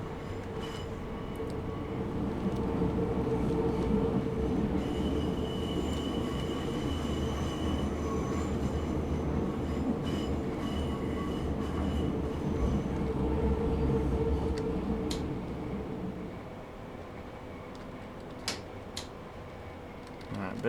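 A Berlin U-Bahn U3 A3L92 train in SubwaySim 2 rumbles loudly as it brakes, with a steady squealing tone over heavy rolling noise that fades after about 16 seconds, leaving quiet ticks and clicks.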